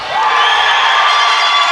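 Basketball crowd at a men's national cup semi-final in Templeogue erupting into loud, sustained cheering and shouting right after a dunk.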